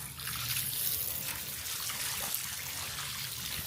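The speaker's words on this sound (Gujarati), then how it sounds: "પાણી છાંટી લઈએ આમાં." Water is sprinkled over potted coriander plants, making a soft, continuous splashing patter close by.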